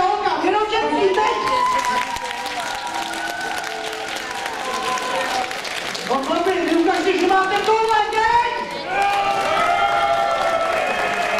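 Applause from spectators at a fencing ball in Czechia, a loud sustained clapping crowd with scattered cheers, mixed with prominent talking or singing voices that carry throughout.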